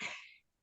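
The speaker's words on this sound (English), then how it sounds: "Somebody sneezed." A single short, breathy burst like a sneeze, sharp at the start and trailing off quickly into silence, fairly faint.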